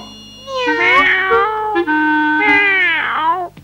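Several cats meowing in a video game scene, long drawn-out overlapping meows, loud and close, one after another with no talking.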